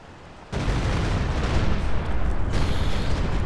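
A Walking Stuka rocket artillery barrage in Company of Heroes 2 crashes in abruptly after a quiet moment, a dense, loud, continuous roar of rocket impacts and explosions that rumbles on without a break.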